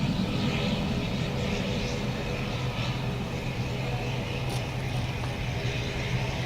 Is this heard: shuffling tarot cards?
no